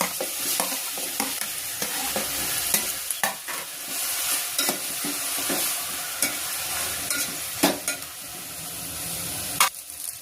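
Whole spices dry-roasting and being stirred in a hot pan, a steady soft sizzle broken by scattered sharp scraping and clinking strokes of the spoon, close and continuous with no voices.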